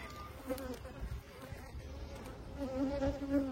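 Honey bees buzz close by around a hive frame during a hive inspection. The droning hum wavers and swells as bees move about.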